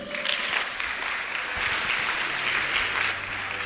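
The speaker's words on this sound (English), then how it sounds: "A round of applause for St." Audience at a national public speaking competition semi-final in Ghana applauding steadily, a sustained wash of clapping of even loudness with no talking over it.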